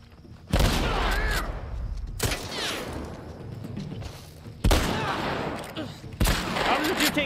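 Shotgun blasts in The Last of Us Part 1, several loud, sharp booming shots spaced a second or two apart, each with a short echoing tail amid game combat noise.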